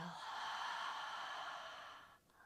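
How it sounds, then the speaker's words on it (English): A long, deep exhale during yoga breathing, a soft breathy rush that starts close and fades out after about two seconds. "Take an inhale. And an exhale."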